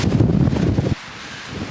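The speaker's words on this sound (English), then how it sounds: "Guys, the wind has picked up." Strong wind buffets and roars around a backpacking tent, a loud gusty rush that drops off abruptly partway through, leaving a quieter steady blowing.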